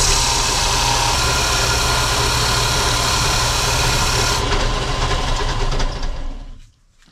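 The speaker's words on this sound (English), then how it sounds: "I think I'm going to just do it on the disc sander" A disc sander runs loudly, grinding against wood held at a 45-degree angle on its table, a steady dense roar whose pitch shifts partway through before the motor winds down and fades to quiet at the end.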